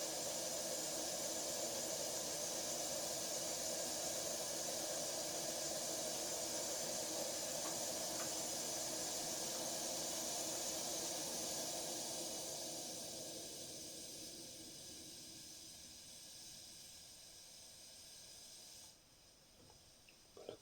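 An SMS Industries No12 British Military stove cooker burner, pressurised to about 1 bar, hisses steadily and loudly, then gradually fades to a quieter simmer hiss before a brief cutoff near the end.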